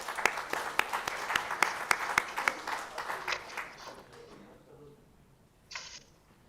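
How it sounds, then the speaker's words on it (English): Conference audience at the ICRISAT 50th anniversary celebration applauds its speakers, a steady hall-wide clapping with sharp individual claps that fades away over several seconds, followed by a brief shuffle. "A round of applause for our speakers,"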